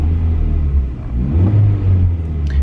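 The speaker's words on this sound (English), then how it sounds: "A little rev for you." A stock Nissan 240SX S13 with its factory exhaust revs up, a steady low engine rumble swelling into a throatier rise midway before easing back, loud and close with no talking over it.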